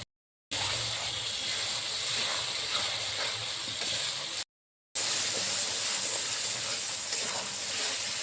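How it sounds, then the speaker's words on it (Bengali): Spiced cauliflower roast sautés in oil in a pan with a constant, close hissing sizzle, heard in two long stretches split by a short silence. "দেখেন কি সুন্দর কষা হয়ে যাচ্ছে, দেখেন কি সুন্দর তেল বেরিয়ে যাচ্ছে"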